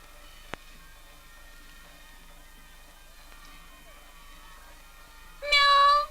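A cat gives a single short, loud meow near the end, after several seconds of quiet with a faint background hum and one brief click.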